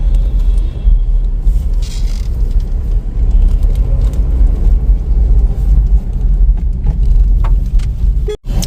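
A car driving along an open road after leaving congested streets, with a steady, close low rumble of engine and tyre noise throughout and a brief dropout near the end.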